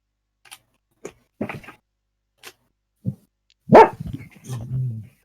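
A dog barks a few short, scattered yips indoors, close and fairly loud, with a louder bark and a brief whine near the end amid otherwise quiet pauses.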